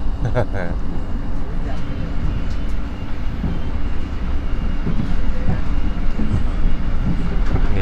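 A KRL commuter electric train rumbles past close by on double track near Lempuyangan station, Yogyakarta, a loud, steady roar of wheels and motor with faint rhythmic clacking underneath.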